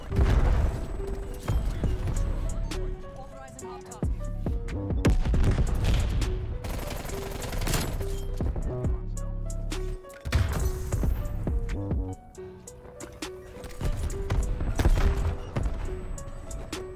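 Bursts of automatic gunfire and rattling shots from a QBZ-83 class setup in Call of Duty Cold War, loud and repeated across the stretch with brief pauses and impacts between volleys.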